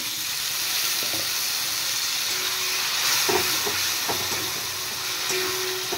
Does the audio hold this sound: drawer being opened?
no